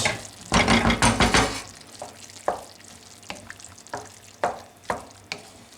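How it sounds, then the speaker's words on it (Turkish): Ground meat, onions and peppers frying in butter in a pan, with a loud sizzling stir at the start followed by quieter crackling and periodic sharp scrapes and taps of a spoon. "kıymamı ve soğanla biberlerimi ilave ediyorum. kaşık tereyağı ilave ediyorum"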